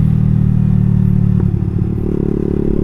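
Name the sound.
Yamasaki Ninja RR 150 FI and ZX 636 motorcycles drag racing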